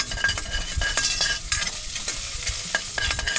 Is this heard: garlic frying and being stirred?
yes